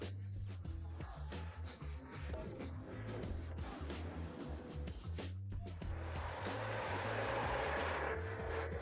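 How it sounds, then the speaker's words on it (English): A Dutch tractor drives past on a road, its engine a steady low rumble that holds through the pass and swells into louder broadband noise as it comes closest near the end, with faint voices underneath. "A Dutch tractor is coming."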